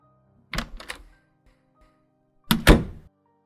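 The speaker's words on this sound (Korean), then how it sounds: "현관문이 열리는 소리가 났습니다" Two bursts of clunks and thumps separated by quiet, like a front door's latch and the door moving, then a heavier knock near the end.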